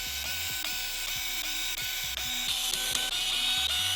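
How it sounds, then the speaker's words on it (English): A power tool drives screws out of the differentials of a Team Associated Reflex 14MT RC truck, a string of short whirring bursts with ratcheting clicks, close and steady, with no voices. "Quite a few screws had to come out to get them out, but with power tools it wasn't too bad."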